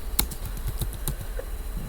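Light, sparse taps on a computer keyboard while a database query is entered, soft clicks at an irregular rhythm over faint room hiss.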